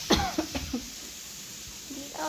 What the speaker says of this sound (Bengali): কি কাশি হচ্ছে।